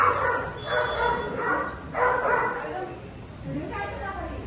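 A dog barks a few times in short bursts, moderately close, with people talking over and between the barks.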